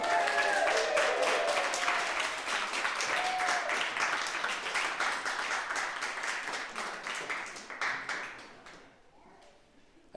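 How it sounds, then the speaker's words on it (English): Church congregation welcoming a reverend with cheers and applause: sustained many-handed clapping in a hall, strong at first and gradually thinning out until only scattered claps remain before fading to quiet. "ask you, with your cheers and applause, to welcome the Reverend Shaie Dively"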